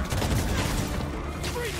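Gunfire erupts in the video game Marvel's Spider-Man 2, a burst of rapid shots and booms over a dense background, with game voices shouting through it.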